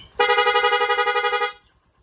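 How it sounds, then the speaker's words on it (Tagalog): A rapid, buzzy electronic horn fitted to a Honda TMX Supremo motorcycle blares in quick repeated pulses for just over a second, then cuts off abruptly. "Rapid horn."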